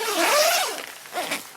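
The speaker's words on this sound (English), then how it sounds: "Outer side fly zips apart" Zipper on the outer fly door of a Robens Cabin 300 tent pulled open in one long, close, crisp rasp followed by a shorter second tug.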